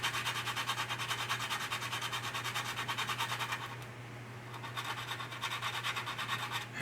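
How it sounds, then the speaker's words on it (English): Sandpaper scrubs steadily across the plastic fuselage of an Italeri 1/32 Panavia Tornado model kit, a close, rhythmic rasp of repeated strokes that pauses briefly midway before resuming. "Doing the initial sanding right now, and then afterwards we're going to come in with putty."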